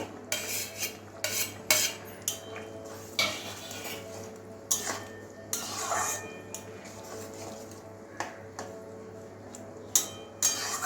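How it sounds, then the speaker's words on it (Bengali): Fried okra added to simmering red lentil dal in a pot, heard as a run of metallic spoon clinks and pot knocks in an irregular rhythm, close and moderately loud, with faint background noise. "এবারে ভেজে রাখা ভেন্ডিগুলো দিয়ে দেবো"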